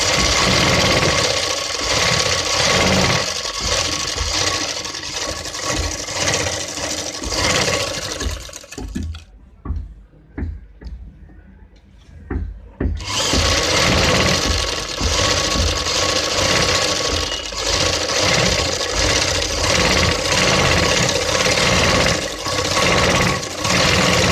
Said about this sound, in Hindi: सिर्फ इस पर एक पैर की ही सिलाई लगाते हैं हम